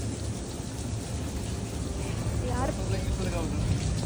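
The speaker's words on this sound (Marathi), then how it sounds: "पाऊस" Heavy rain pours in a steady, dense roar close by, with a low rumble running beneath it throughout. A voice is briefly heard under the downpour.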